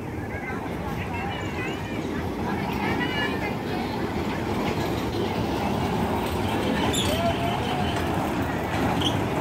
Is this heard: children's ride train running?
yes